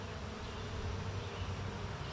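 A cloud of honey bees drones around an open hive, a thick, unbroken buzz close by with small swells as individual bees pass near, without any talking.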